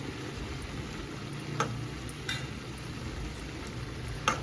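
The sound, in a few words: small bitter gourd (kakarakaya) frying in a pan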